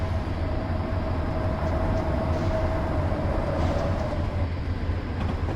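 A Santa Fe train led by F45 locomotives rumbles past in Train Simulator on an Arizona route, a steady loud rolling roar of wheels with a drawn-out horn-like tone and faint clanks, no voices.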